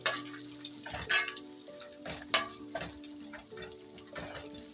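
Garlic and curry leaves fry in oil as a tempering for a fish curry, a soft steady crackle with occasional sharper pops and clatters, fairly quiet and close, with no voices.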